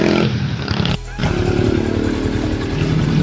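A Yamaha Sniper 155 VVA motorcycle engine starts up after an oil change, with a brief cranking sound followed by a loud, close, steady idle that runs without a break.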